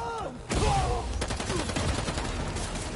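Gunfire in the Spider-Man 2 video game: a burst of rapid shots starts abruptly and keeps crackling in a dense, loud volley, with game voices and effects mixed underneath.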